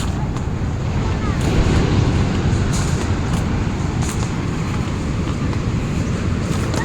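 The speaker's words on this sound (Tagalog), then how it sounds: "Naririnig nyo ba yung malakas na alon?" Strong sea waves break against the rocks at a rocky seashore in La Union, a loud, steady rushing roar that continues without a pause from start to end.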